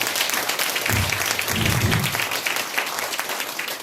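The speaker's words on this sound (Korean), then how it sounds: "박수 한번 부탁드리겠습니다" A crowd applauding, a dense wash of clapping that holds steady for a few seconds.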